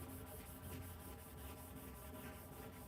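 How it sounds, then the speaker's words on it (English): Steady, continuous rubbing and scraping of sandpaper wet sanding car paint, fairly quiet and even, with no voices. "Everybody now calls it wet sanding."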